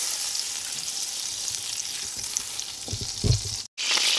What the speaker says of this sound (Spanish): aquí mismo vamos a agregarle mantequilla al gusto